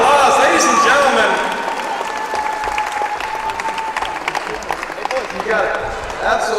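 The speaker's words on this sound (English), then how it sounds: "Give them a round of applause, ladies and gentlemen." Crowd applauding a winning Team USA at a Combat Challenge competition, broad sustained clapping with scattered cheers and a voice talking over it throughout.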